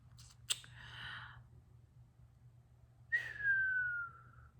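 A person whistles a single falling note, clear and fairly close, after a pair of quick sharp clicks and a breathy hiss, with quiet room hum in between.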